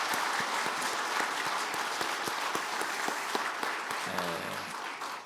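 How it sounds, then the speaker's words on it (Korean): A church congregation at a New Year prayer meeting applauds together with steady, dense clapping that holds throughout, and a brief tone from the sound system is audible near the end. "우리 격려의 박수 우리 다 같이 한번 하겠습니다."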